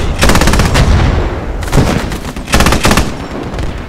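A squad opening fire on vehicles, loud close bursts of rapid automatic gunfire in several rattling volleys over a constant rumbling background.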